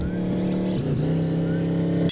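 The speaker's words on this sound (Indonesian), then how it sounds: "Ditabrak mobil, guys" A car engine drones steadily with a small dip as the vehicle drives past, ending in an abrupt impact sound in a cartoon game scene.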